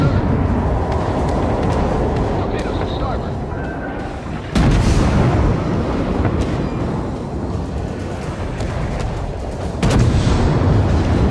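Naval artillery in the World of Warships video game roars as continuous, dense, heavy gunfire, punctuated by two sharper booming salvos, with a voice mixed in under the din.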